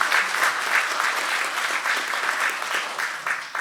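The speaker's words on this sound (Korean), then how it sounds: "오늘 발제해 주신 김도영 박사님한테 뜨거운 박수 좀 부탁드리겠습니다" A panel discussion audience at a science and technology debate gives warm applause for the presenter, a dense, loud and sustained wash of clapping with no voices over it.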